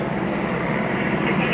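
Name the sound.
police helicopter overhead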